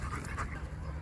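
A dog pants close by, giving quick breathy huffs mixed with faint whimpers, outdoors beside a lagoon.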